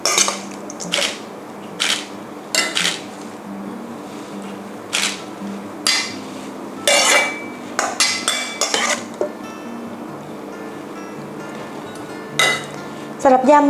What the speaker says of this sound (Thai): ตักวุ้นเส้นนะคะที่เรายำเสร็จแล้วใส่จานเลยค่ะ